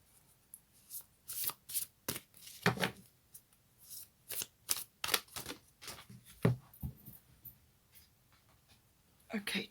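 Moonology oracle cards shuffled by hand at close range, a run of quick crisp riffling bursts and slaps with short pauses between, fairly quiet with no talk over them.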